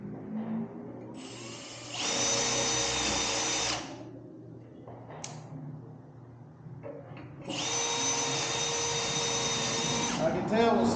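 Cordless battery drill whirring in two sustained bursts of a couple of seconds each, separated by quieter handling noise, used on boards being replaced on a car trailer.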